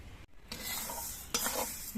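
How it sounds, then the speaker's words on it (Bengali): Mung dal fries in a pan while being stirred constantly, a close, soft sizzle broken by a short pause and then a scraping stir. "মুগ ডালটা ভাজার সময় কিন্তু অনবরত নাড়তে হবে না হলে মুগ ডালটা পুড়ে যেতে পারে"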